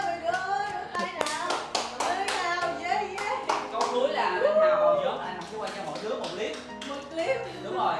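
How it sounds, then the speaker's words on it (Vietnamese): A small group clapping their hands at an S4 fifth birthday gathering, sharp claps in a rapid uneven patter, close and fairly loud, with voices chattering and cheering over them throughout. "mọi người ơi, vỗ tay nào"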